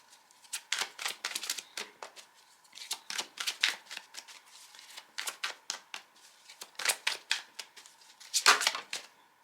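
A deck of tarot cards being shuffled by hand in repeated bursts of riffling and sliding, close and crisp, with short pauses between rounds.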